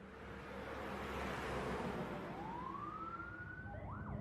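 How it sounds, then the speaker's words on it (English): An ambulance and police car sirens wail as the vehicles arrive, a loud rising and falling tone swelling over a steady rumble of traffic, with the pitch sweeping upward toward the end. "an ambulance and a whole bunch of police cars came screaming up and parked in front of her house"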